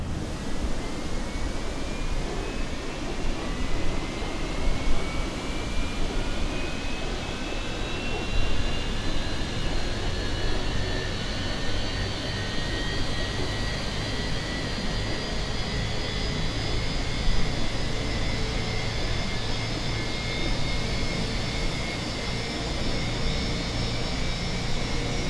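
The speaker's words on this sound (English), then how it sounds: "Okay, engine ignition to start. And then we'll start engine number 1." An aircraft jet engine spooling up during start in Microsoft Flight Simulator, with a dense, loud roar and whining tones rising steadily in pitch throughout, no voices over it.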